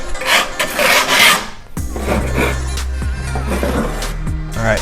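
A trowel or blade scrapes rough bits off a fresh Venetian plaster mother-of-pearl texture coat, with two loud raspy strokes, a short pause, then a steadier scraping pass close up.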